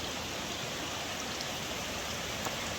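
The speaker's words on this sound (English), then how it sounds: "There's the water source." Steady rushing of a stream on a hiking trail, a broadband water roar running without pause from close by, with no voices over it.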